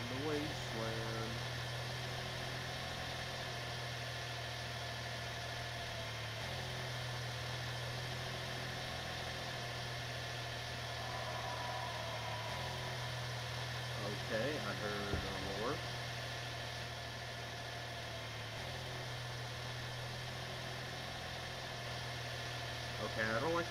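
Steady low engine drone from a vehicle driving down a wasteland road in the game Fatal Delivery, a continuous hum running throughout with little change.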